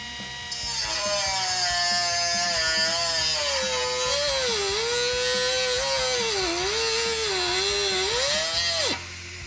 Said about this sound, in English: we're gonna use a die grinder to cut an X into the head of this rivet